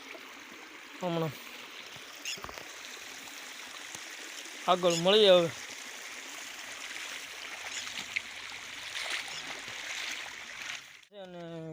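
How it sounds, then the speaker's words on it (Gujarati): A village stream flowing again after overnight rain trickles and gurgles steadily in the background, while a person speaks briefly and other voices or animal calls come and go. "રાતે વરસાદ આવ્યો એટલે પાછું ચાલુ થઈ ગયું છે પાણી."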